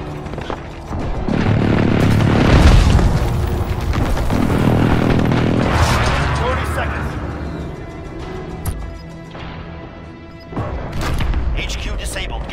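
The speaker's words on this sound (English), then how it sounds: "Allied precision airstrike incoming." Heavy booming airstrike explosions rumble through a Call of Duty: Modern Warfare Headquarters match, several deep overlapping blasts swelling loud then fading, followed by a later thud, under radio-style game voices.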